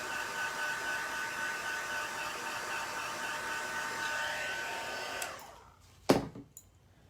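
A hair dryer blows over chalk paste on a stencilled surface with a steady, close whoosh for about five seconds, then cuts off, followed by a brief sharp knock and quiet.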